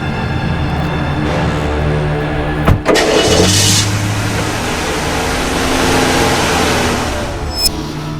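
A car engine cranks and catches with a sharp start, then settles into a steady mid-pitched running note as the vehicle pulls away, loud and close with no talking.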